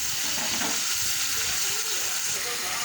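Fish such as rohu or katla frying in hot oil with nigella seeds and green chili, giving a loud, steady, close sizzle with crackling spatter that runs without a break.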